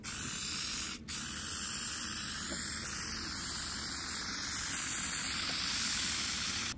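A spray can hisses in one long, continuous close-up burst with a brief break near the start, a loud steady aerosol spray during work on a 1953 flathead project.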